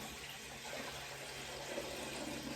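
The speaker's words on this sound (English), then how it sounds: "we are going to put our 3 quarts of water into our canner" Water runs into a home canning pot, a low, steady rushing fill heard faintly and continuously under a constant background hum, with no voices.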